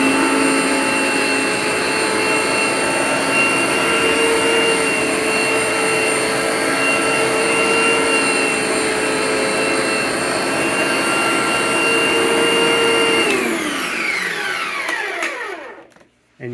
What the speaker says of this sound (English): let's select vacuum.